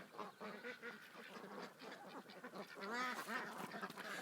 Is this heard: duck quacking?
yes